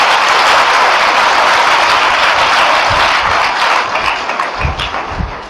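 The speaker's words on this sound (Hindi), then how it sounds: "तालियां बजाइए।" An audience at a spiritual discourse gives loud, dense, sustained applause that stays steady before thinning out, with a few low thumps near the end.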